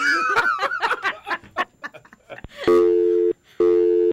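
A telephone busy signal sounds after a caller hangs up: loud, steady repeated tone bursts with a short gap between them, preceded by voices talking and laughing.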